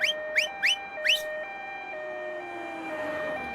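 An ambulance siren opens with four quick rising whoops, then settles into a two-tone hi-lo wail that drifts lower and fades as it passes.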